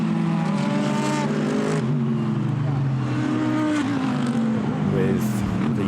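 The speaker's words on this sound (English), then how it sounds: "the cars work their way now up through the Variante Ascari" GT race cars running through the Variante Ascari chicane at Monza, engines droning and shifting pitch as they accelerate, heard steadily under a commentator's voice.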